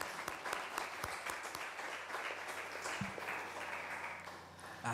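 An audience at a law college panel event on the Gaza conflict applauds the speakers, steady dense clapping filling the room for the whole stretch, fairly distant and even.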